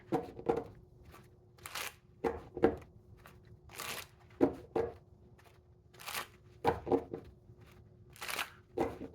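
Tarot cards are shuffled over and over in quick riffling bursts with short pauses between, close and fairly soft, with no talking.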